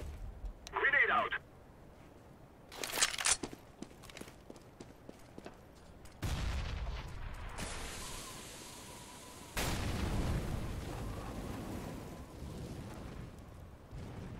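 In-game CS:GO noise holds a grenade blast and a smoke grenade release, heard as a few sharp bursts followed by long, broad hissing rushes, with players talking over the action.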